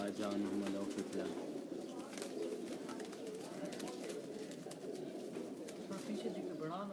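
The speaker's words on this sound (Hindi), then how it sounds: "ये जी बाजू में उड़ने वाले कबूतर हैं" Flying pigeons kept by a pigeon fancier coo softly amid a steady outdoor background. The coos are faint and distant, with murmuring and movement around them.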